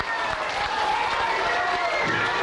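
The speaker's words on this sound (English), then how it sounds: "Give them a round of applause." Audience applause and crowd noise at a children's fire safety show, steady clapping mixed with cheering and voices from the crowd.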